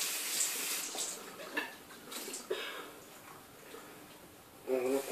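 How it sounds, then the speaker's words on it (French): Cold tap water runs over a boiler siphon trap from an Elm Leblanc Mégalis boiler being rinsed by hand, a quiet steady splash with brief louder gushes and clatters near the end. "On profite pour laver à l'eau froide"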